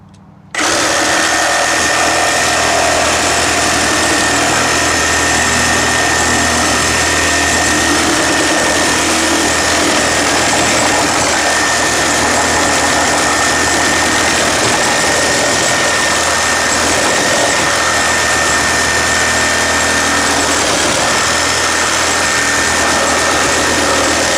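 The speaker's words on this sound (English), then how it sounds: "I switched to Milwaukee's axe blade to cut one of the biggest pieces of wood I could find in the shed" A Milwaukee M18 Fuel Super Sawzall (2722) fitted with an axe blade, orbital mode off and speed setting 3, saws through a large piece of wood, giving a loud, steady reciprocating buzz that starts abruptly and holds throughout.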